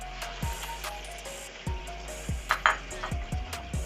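Chopped onion frying in a pan for Lahori-style anda chana, a steady sizzle with several sharp clinks of a utensil against the pan, close and moderately loud.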